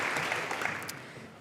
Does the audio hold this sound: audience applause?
yes